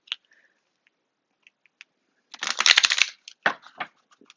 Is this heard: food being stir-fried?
no